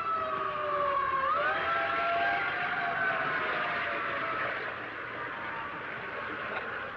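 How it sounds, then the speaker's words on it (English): A fire engine siren in the 1936 film Mr. Deeds Goes to Town wails with a rising and sliding tone, loud at first and then fading slightly as it continues over rumbling street noise. "Hey, fire engine!"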